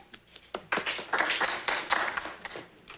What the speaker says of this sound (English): Oh, thank you for that smattering of applause.